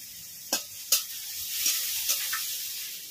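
Grated onion and garlic paste frying in a pan for a steamed egg dish, a soft steady sizzle broken by a few sharp stirring scrapes, close and fairly quiet.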